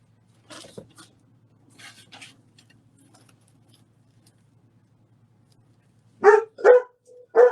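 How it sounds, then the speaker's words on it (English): A house dog barks loudly nearby in three sharp, closely spaced woofs near the end, after a stretch of quiet indoor clicks and small handling sounds. "Oh, excuse my dog."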